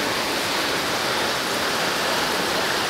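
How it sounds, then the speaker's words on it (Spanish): Steady roar of a clear, drinkable waterfall at Cascada de Quetzalapan, a dense, unbroken rush of falling water heard up close with nothing else over it. "aquí tenemos una caída de agua muy limpia"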